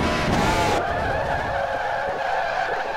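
Race car skidding with tires squealing loudly during a crash in the NR2003 racing game, a sharp screech that settles into a sustained engine drone.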